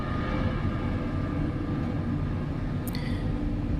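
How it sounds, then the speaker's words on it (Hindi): Metro train pulling away, a steady low rumble and rolling drone filling the space, with a brief high squeal near the end and no voices. "मेट्रो आगे बढ़ी।"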